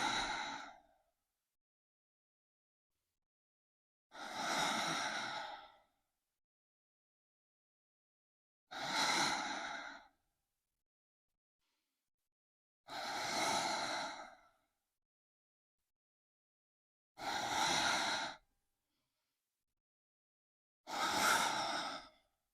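Six slow, breathy exhales during a hip flexor exercise, evenly spaced every few seconds with silence between them, close to the microphone.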